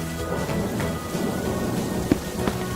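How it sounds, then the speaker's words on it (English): Steady heavy rain pours down with a dense, constant patter, and a couple of sharper hits or distant rumbles break through. "It's raining and Peppa spots her rainbow umbrella."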